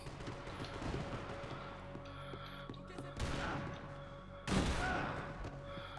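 Gunfire in a Max Payne 3 multiplayer match, a steady stream of rapid shots with two sharp, louder bursts, heard beneath ongoing game ambience.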